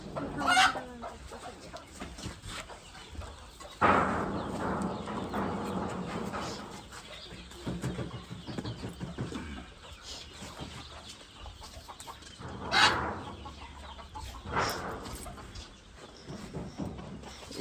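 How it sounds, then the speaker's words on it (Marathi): Country hens sitting on eggs for natural hatching on a backyard poultry farm cluck steadily at close range, with a few louder bursts standing out, and no one speaks. "पूर्ण कोंबड्या ह्या अंड्यावर बसवलेल्या आहेत आणि नॅचरल हॅचिंग म्हणजे नैसर्गिक पद्धतीने कोंबड्या ह्या अंड्यावर बसून पिल्लं करण्याचं काम हे करतायत"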